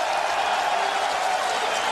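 Stadium crowd at a CFL football game between the Toronto Argonauts and Ottawa REDBLACKS rising to its feet and cheering, a dense, steady roar of voices and scattered applause with no break.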